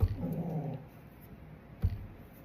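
A dog named Hazel lets out a short low growl with a whimpering edge at the start, then a second brief grunt near the end, close by and with no talking.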